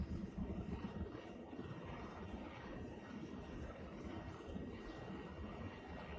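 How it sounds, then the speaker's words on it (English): A military helicopter in the Arma 3 multiplayer game during a foot patrol: continuous low rotor and engine drone that holds steady and fairly quiet from start to finish, with no voices. "I forgot how loud this helicopter was"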